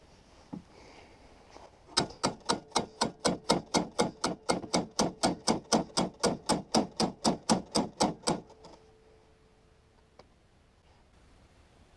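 Steady hammer blows on an old, rotting 1970s Yamaha snowmobile, about two dozen sharp metallic strikes in an even, quick rhythm, loud and close, then a short quiet stretch with a faint lingering tone.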